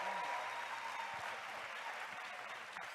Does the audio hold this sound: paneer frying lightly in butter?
no